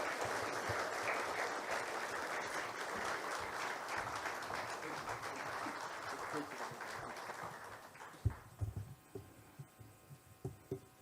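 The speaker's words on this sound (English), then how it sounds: "Clap until he gets here, until he shakes my hand, and until I tell you to stop." Sustained applause from an audience welcoming the Managing Director and CEO of Kenya Power onto a stage, dense clapping that holds steady for several seconds, then thins into scattered individual claps and fades near the end.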